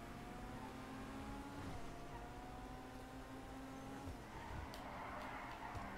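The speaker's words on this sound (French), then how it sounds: "Regardez comment il dérape. Par contre, tu as remarqué, il dérape beaucoup." A Karin S95 car in a video game revs with rising and falling engine tones and tire squeal as it slides, fairly faint, with brief sharp noises near the end.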